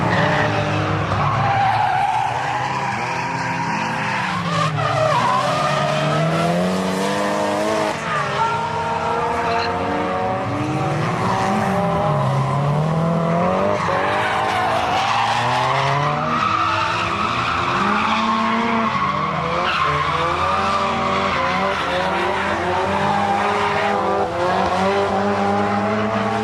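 Drift cars at a street drift event skid continuously, their tires squealing in wavering, overlapping howls over engine roar, loud and close throughout.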